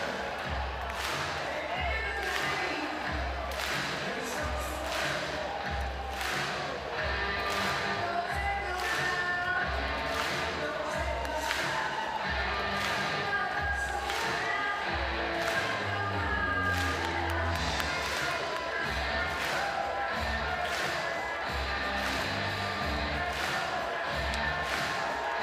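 A college baseball crowd in Athens, Georgia roars during a tied ninth inning against Mississippi State, a dense, steady wall of cheering with scattered claps and taps running the whole time.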